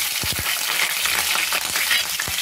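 Green chillies dropped into hot oil for a prawn and drumstick pulusu, giving a dense, continuous hissing sizzle with a couple of soft knocks near the start.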